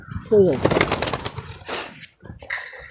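Golden pigeons coo in low, throaty bursts close by, with a soft flutter and some faint voices mixed in.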